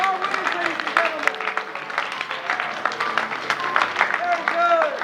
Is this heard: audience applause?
yes